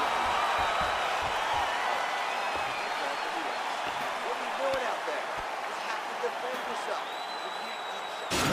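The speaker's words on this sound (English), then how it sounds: "So the crowd voicing its appreciation after that round." Steady crowd applause and cheering filling an arena between rounds of a UFC fight in the EA Sports UFC video game, a continuous wash of clapping that holds level throughout.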